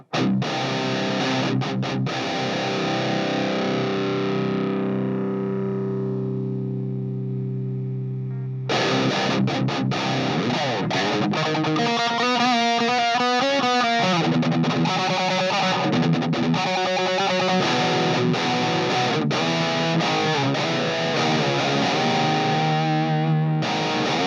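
A thick, distorted electric guitar lead tone from a Quad Cortex capture of a KSR Ceres amp plays sustained notes, then fast runs and held bends, loud and close with no talking.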